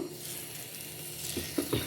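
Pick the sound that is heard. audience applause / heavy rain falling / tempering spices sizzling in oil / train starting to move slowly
tempering spices sizzling in oil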